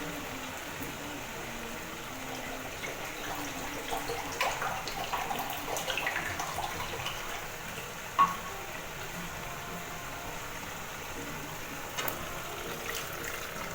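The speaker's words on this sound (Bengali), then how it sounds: "তো আমি এর মধ্যে এবার একটুখানি গরম জল দিয়ে দেবো।" Hot water being poured into a curd-based katla fish curry in a pan, a soft continuous pour and sizzle with faint stirring, fairly quiet, with a brief clink around the middle.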